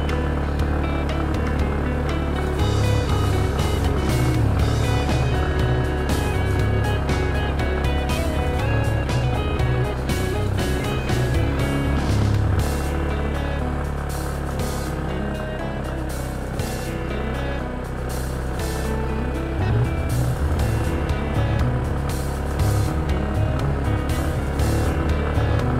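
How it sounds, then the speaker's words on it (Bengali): Engine of a vehicle grinding uphill in first gear on a steep hill road toward Boga Lake in Bandarban, a loud, steady, labouring drone that holds throughout with slight rises and falls in strain. "ফার্স্ট গিয়ারে উঠতেছি। ফার্স্ট গিয়ার ছাড়া কোনোভাবেই সম্ভব না।"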